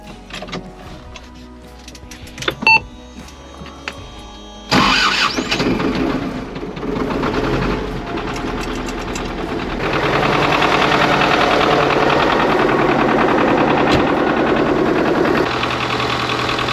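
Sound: tractor engine starting and running

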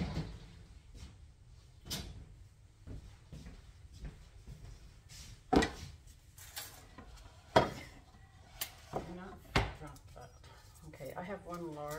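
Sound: mincing a clove of garlic

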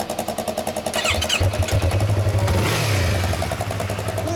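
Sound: motorcycle engine revving

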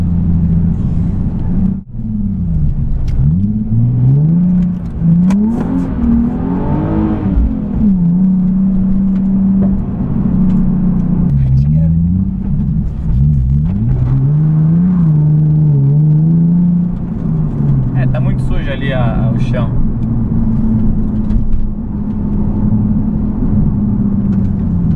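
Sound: Nissan 370Z car revving and sliding sideways

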